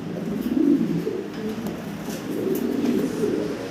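Cooing of Mundi pigeons, a semi-adult breeding pair kept on an expat's pigeon farm, low soft burbling coos repeating steadily and close, with no talk over them.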